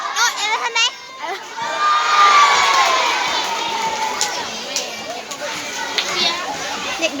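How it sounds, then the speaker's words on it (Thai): A crowd of schoolchildren shouts and cheers loudly for the teachers' team at a school friendship ball game, a dense, excited roar of young voices with whoops that peak early and stay lively throughout. "เด็กน้อยนี่เขาเชียร์ทีมอาจารย์อย่างเขาเชียร์ทีมอาจารย์นกแก้วป้าแม่เนาะเขาเชียร์ทีมอาจารย์เขาเอง"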